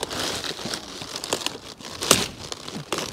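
Excess outer leaves are pulled and torn off a large cabbage outdoors, with close, crisp crinkling and ripping in short irregular bursts and one sharper snap, without talk.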